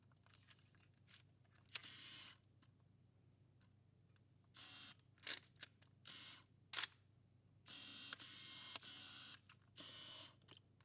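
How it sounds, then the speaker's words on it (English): Nikon Df camera fitted with a 28mm f/1.4 lens, its shutter firing in sharp, close clicks and short bursts of autofocus whirring, spaced across a quiet room. "I did it specially so that you can hear the shutter, the sound of autofocus."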